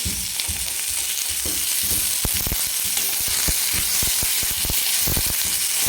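Chopped vegetables for misal stir-fried in a hot pan, a steady loud sizzle with frequent sharp crackles and spatula scrapes running throughout, no voices.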